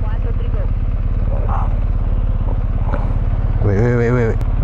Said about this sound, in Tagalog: May maatrasan akong motor.